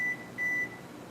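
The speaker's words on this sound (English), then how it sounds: "I think that's someone's phone." A mobile phone beeps twice with short, high electronic tones, the second slightly longer, fairly faint over a soft background hum in a kitchen.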